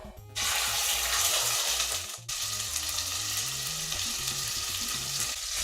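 A pot of rice boils at low heat with a steady, dense bubbling hiss that starts abruptly, briefly cuts out midway, then resumes beside a soft low melodic background.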